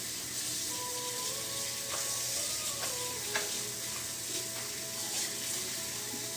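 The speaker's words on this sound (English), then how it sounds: "We're just going to rinse it all out here" Tie-dyed clothes get rinsed under running water, a steady hissing splash that carries on evenly throughout with small knocks and sloshes.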